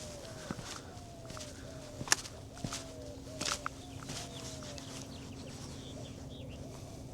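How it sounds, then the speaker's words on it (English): Soft bird calls repeat in a gentle pattern over a quiet outdoor background at an abandoned country club, with a faint steady hum and occasional light taps. "It's kind of peaceful out here with the birds chirping."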